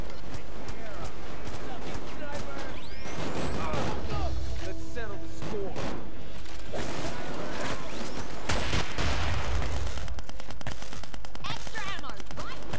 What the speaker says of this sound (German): ich habe genau auf ihn geschossen, der überlebt hat einfach diesen RPG-Schuss